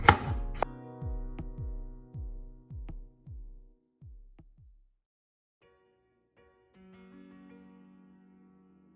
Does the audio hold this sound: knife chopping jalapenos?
yes